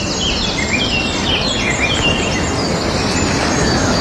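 Blackcap and chaffinch songs ring out, bright warbling phrases and repeated chirps over a dense steady outdoor background with insect buzz, no voices.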